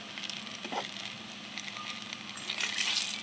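Palm fruit fritters sweetened with cane jaggery frying in hot oil, a steady soft crackle and fizz holding close and even throughout with a few sharper pops near the end.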